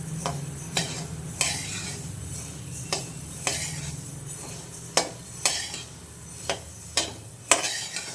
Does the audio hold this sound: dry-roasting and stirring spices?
yes